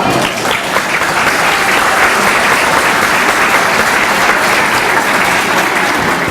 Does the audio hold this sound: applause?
yes